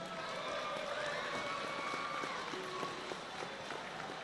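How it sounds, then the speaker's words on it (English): A crowd applauds and cheers for both fighters after a cage-fighting bout at a conference center in Kingsport, Tennessee. The sound is a faint, steady wash of distant clapping with a voice carrying over it. "let's have a nice round of applause for both fighters"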